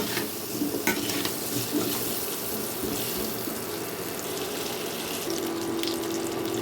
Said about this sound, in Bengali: আলুগুলোকেও কিন্তু আমি লাল লাল করে ভেজে নিয়েছি